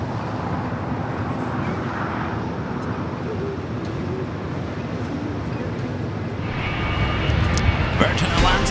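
A jet airliner roars in a broad, steady rumble during its takeoff roll on runway 25 Right at LAX, growing slightly louder near the end.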